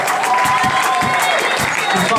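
A small audience at a live music showcase in a Milan venue applauds while a voice talks over it and sustained musical tones hang in the background, the clapping bright and fairly loud.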